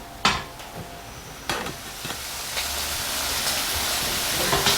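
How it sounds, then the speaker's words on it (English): Beef browning over medium heat for noodle soup, a steady sizzle that swells gradually, broken by a few sharp knocks as the pieces are turned. "Brown it over medium heat and turn it over occasionally"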